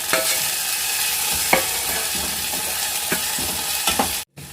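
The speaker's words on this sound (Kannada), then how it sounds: "ಉಳ್ಳಾಗಡ್ಡಿದಿಂದ ಚಲೋ ಹೊತ್ತಿಂದ ಫ್ರೈ ಮಾಡ್ಕೊಳ್ಳೋದು ಎಣ್ಣೆ ಒಳಗೆ" Onions and tomatoes fry in oil in a pan with a steady close-up sizzle. A spoon scrapes and stirs through them every second or so, and no one speaks.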